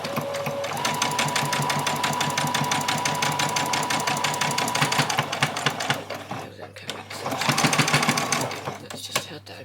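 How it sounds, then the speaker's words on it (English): A sewing machine runs steadily for several seconds, stitching the fabric pieces of a bunny toy, its rapid needle rhythm close and loud before a brief pause and another short burst of stitching. "So we'll just go to the machine and do that."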